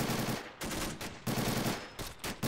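Machine gun covering fire in a Pointe du Hoc battle from a realism-modded World War II shooter, heavy sustained bursts broken by short pauses, loud and close, with no speech.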